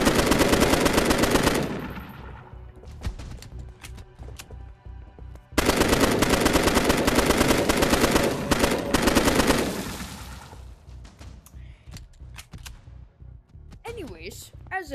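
Rapid automatic gunfire in the video game Bonelab, two long sustained bursts separated by scattered single shots, loud and close, with a voice briefly heard at the end.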